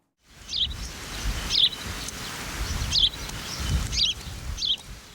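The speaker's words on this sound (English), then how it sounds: "Birds call to silent stones." Birds call in repeated bright chirps, roughly once a second over several seconds, in an open outdoor setting with soft wind and low rumble beneath.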